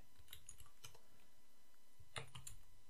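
Keystrokes on a computer keyboard while entering a date into a web form, a short quiet burst of clicks, a brief pause, then another quick cluster of taps nearby.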